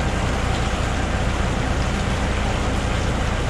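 Liquid manure slurry runs in through a hose on a farm in January, making a steady, loud, rushing wash that continues without pause from start to finish, with no voices.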